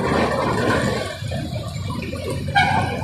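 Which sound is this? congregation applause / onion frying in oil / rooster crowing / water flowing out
water flowing out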